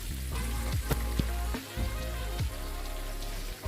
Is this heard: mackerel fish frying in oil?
yes